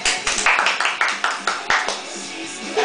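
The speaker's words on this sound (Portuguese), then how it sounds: "Palmas pra mim." Hands clap in a quick, steady rhythm at a lively show featuring a dog named Liz, the sharp claps close and loud, easing off toward the end.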